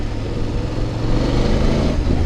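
A 2025 BMW F800 GS adventure motorcycle with an 800cc engine revs loudly and close by, a steady dense engine roar that swells slightly in the second half, with no talking.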